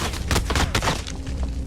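A car blows up in a video game, several heavy booming blasts in quick succession, loud and close, trailing off into a quieter rumble.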